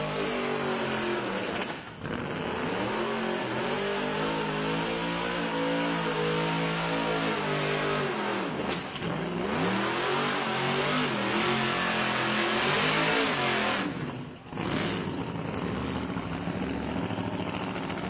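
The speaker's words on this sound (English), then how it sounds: "this is my favouriteest burnout car on the planet" A burnout car at a Rockynats Burnout Masters final revs hard and sustained, its loud engine screaming through long howling passes broken by brief dips as the throttle lifts.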